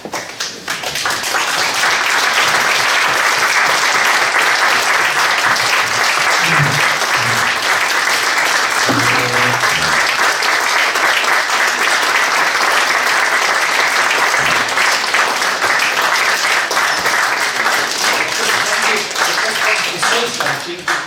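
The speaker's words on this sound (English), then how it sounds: "The audience is applauding." A large audience applauds loudly and without pause after a talk by Jean-Claude Trichet at a finance and economics discussion event in Hildesheim. The dense, sustained clapping fills the room for about twenty seconds.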